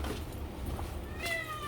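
Cats meow faintly at home, one brief high meow emerging near the end over a low background hum.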